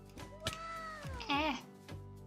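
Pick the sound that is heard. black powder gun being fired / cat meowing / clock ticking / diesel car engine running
cat meowing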